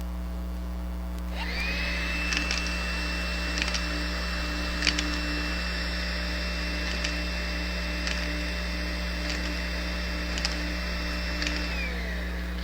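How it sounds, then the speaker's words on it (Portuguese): A Makita vacuum cleaner starts up with a rising whine that then holds a loud, steady tone. Coins rattle and clink through it at irregular intervals as they are sucked up, over a constant electrical hum. "eu vou aspirar umas moedas para vocês verem a potência que esse aspirador tem"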